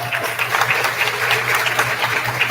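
Applause for students at an awards and promotion ceremony, a moderate steady patter of many hands clapping under a low hum, continuing evenly throughout.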